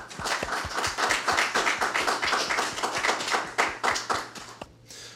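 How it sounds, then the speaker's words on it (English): Applause for Officer Benway at a community conversation event, a small audience clapping with distinct individual claps in a steady patter that tapers off near the end. "Give a round of applause for Officer Benway"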